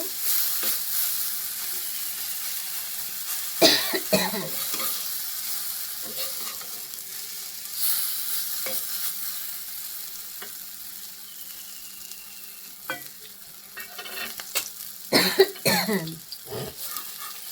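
Food frying gently on a low flame with a rice-flour coating, a quiet continuous sizzle broken by scraping stirs, with a few coughs and throat clearing nearby.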